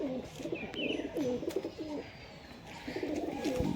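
High-flying pigeons coo softly and repeatedly close by, with their low rolling calls and light rustles in a quiet setting.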